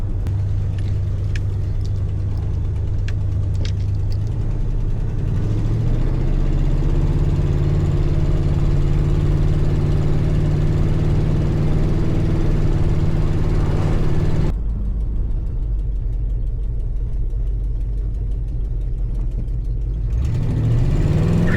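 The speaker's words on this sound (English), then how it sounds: "I have a killer exhaust leak in this car" A Mitsubishi Lancer with a bad exhaust leak idles and runs nearby, giving a steady, loud, rumbling drone with a raspy mechanical whir. The tone shifts partway through, then holds a low, even idle with no talking.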